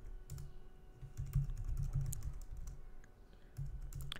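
Quiet computer keyboard typing, a steady run of soft close keystrokes with brief pauses, as a Linux terminal install command is entered.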